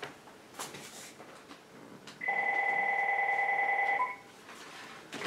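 A telephone rings indoors with a steady electronic two-tone warble lasting about two seconds, loud and close over a quiet room hum.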